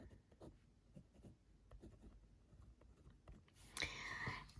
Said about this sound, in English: I'm going to write that there